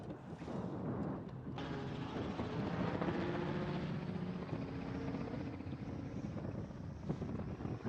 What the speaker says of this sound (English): That's the Topwater chopper, getting that overhead view for you guys there.